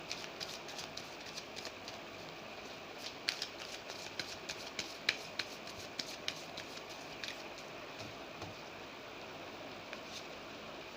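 Tarot cards shuffled by hand produce soft, continuous papery riffling with small clicks and slaps, close and fairly quiet against light background hiss.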